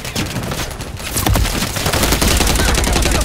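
Rapid gunfire in Modern Warfare 3 multiplayer, dense bursts of loud close shots and automatic fire that roll on without a break.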